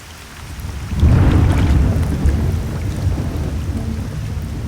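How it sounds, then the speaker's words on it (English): Rain pours steadily at Lake Constance as a deep rolling rumble of thunder swells in and lingers, low and heavy, with no voices. "Outside, it's raining again."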